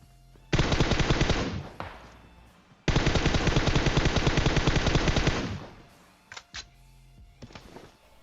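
Automatic gunfire in a battle royale video game: two long, loud rapid-fire bursts of several seconds each, followed by a few short isolated shots.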